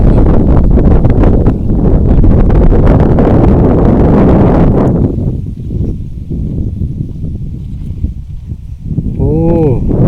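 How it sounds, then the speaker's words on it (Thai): Strong wind roars across an open coffee farm, buffeting the microphone loudly before easing into a steadier rush, with a voice briefly heard near the end. "บรรยากาศก็ลมพัดพี่น้องลมพัดวอยๆ"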